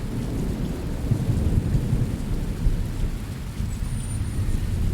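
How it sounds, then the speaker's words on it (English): Rain and thunder in the Fernbus Simulator driving game, a steady hiss of rainfall over a deep rolling rumble of thunder that continues throughout, with no voices. "Oh yay, it's raining."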